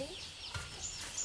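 Chickens cluck briefly outdoors in a couple of soft, short calls over quiet background noise.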